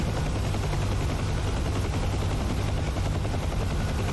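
A Huey helicopter in the DCS flight simulator, its rotor and turbine roaring loud, dense and unbroken throughout with a heavy low throb, no voices.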